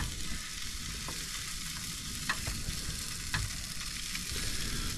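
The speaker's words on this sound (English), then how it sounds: "Sausages take a little bit longer than the black pudding, so I'm going to put them in first." Sausages sizzling in a pan with spray oil inside a VW T4 camper, a steady close crackle and hiss with a few light pops, no voices.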